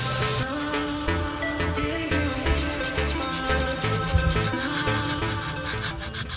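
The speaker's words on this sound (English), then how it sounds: "So I'm gonna go in there and sand it down a little bit so we can touch up." Hand sanding scrubs at painted metal in a Mazda Miata engine bay, a close rhythmic rasping of repeated back-and-forth strokes with no talking.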